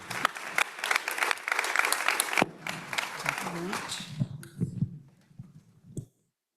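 Audience applause after a talk, sharp clustered claps fairly close, tapering off as someone speaks over the thinning clapping before it stops.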